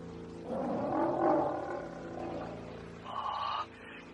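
A white tiger roars in an audio drama, a deep rumbling growl rising and swelling for a few seconds, then a shorter, higher roar, loud and close with no talking.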